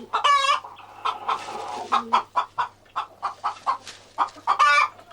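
A broody farmyard hen clucking in a rapid series of short, close clucks, with a couple of louder drawn-out squawking calls at the start and end; no talk.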